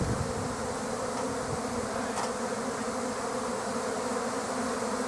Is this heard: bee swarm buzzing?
yes